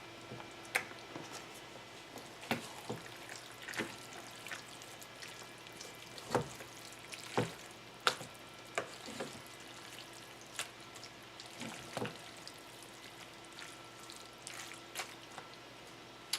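Meatballs fry quietly in a pan: a faint, low sizzle is broken by scattered sharp pops and crackles, with no voices.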